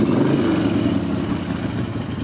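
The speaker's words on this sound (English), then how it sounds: "let's give this bike a quick listen" A 2003 Harley-Davidson Ultra Classic Electra Glide 100th anniversary edition motorcycle idles with a steady, loud, low rumbling engine note, close by and without talk.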